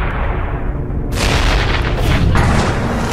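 Explosion in a Skibidi Toilet animation: a loud, sustained booming blast that bursts in suddenly after a rumbling lead-in and fills the sound with heavy noise.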